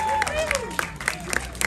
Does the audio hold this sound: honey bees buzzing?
no